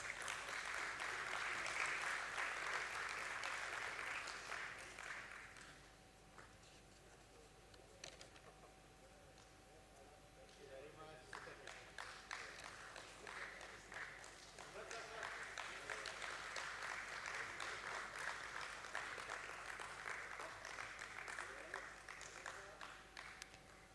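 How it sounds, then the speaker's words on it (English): Applause at a stock exchange listing ceremony for Borosil Scientific at BSE, with a broad steady wash of clapping from a sizeable audience that eases briefly and then swells again, continuing throughout. "Let's welcome Ms. Anshu Agrawal, Group CS, with a huge round of applause."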